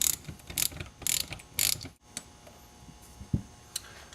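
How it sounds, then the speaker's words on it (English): A socket wrench ratchets to unthread a ramp control knob assembly from its fork: quick bursts of close, crisp clicking, then a pause and a few scattered quieter ticks. "take your socket and just carefully unthread the knob assembly"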